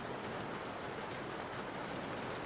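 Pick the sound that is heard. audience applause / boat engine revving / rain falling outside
rain falling outside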